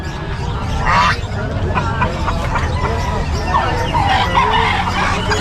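Ducks for sale at an outdoor pet market in Bocaue quack intermittently amid poultry calls and busy crowd chatter, with people talking throughout.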